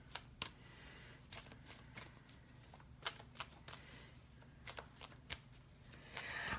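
Oracle cards being shuffled by hand in a quiet room: a faint, close run of riffling cards with sharp, irregular snaps and flutters.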